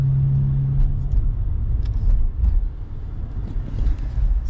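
Car driving along, a steady low road rumble inside the cabin with light rattles and shifting engine noise throughout, close and continuous.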